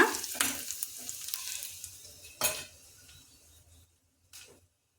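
Fresh turmeric root and other ingredients are dry-roasted in a pan for turmeric tambuli, giving a soft crackle with scraping stirs and a few sharp clinks of a utensil against the pan, fading quieter toward the end.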